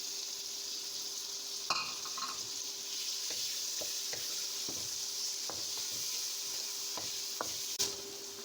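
Two medium finely chopped tomatoes cooking down in masala in a pan for turai (ridge gourd) sabzi: a soft steady sizzle with intermittent light scrapes and taps of a spatula stirring, close but quiet.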